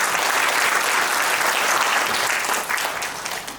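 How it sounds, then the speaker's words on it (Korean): A hall audience at a policy debate on long-term care workers gives warm applause to welcome a speaker, a dense, even wash of clapping that fades toward the end. "우리 주인용삼 평택시설협회장님께 뜨거운 박수 부탁드립니다"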